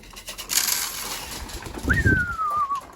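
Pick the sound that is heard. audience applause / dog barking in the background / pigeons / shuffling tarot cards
pigeons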